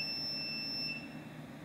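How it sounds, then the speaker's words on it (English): A Cuisinart TEA-100 electric tea steeper gives a thin, steady high electronic beep for about a second, then stops, over a low background hum. "So now that it beeped, the water is to the proper temperature."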